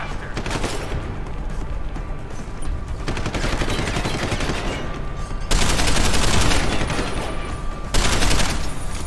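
Rapid, sustained gunfire in Deus Ex: Human Revolution, dense bursts of shots running almost continuously, louder and sharper in the second half, with a brief pause between volleys.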